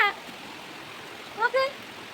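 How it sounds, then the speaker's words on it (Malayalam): Rain falling outdoors, a steady even hiss throughout, with brief voice sounds at the start and near the end. "ഏക്കളെ നീലു മഴ പെയ്യുന്നു വാ മഴ"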